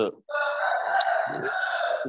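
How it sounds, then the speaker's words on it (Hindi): A rooster crows loudly and close, one long drawn-out call with a brief sound just before it. "ये एक जानवर मुर्गा बेलगाम हो गया और मेरे बातचीत में खलल डाल रहा है"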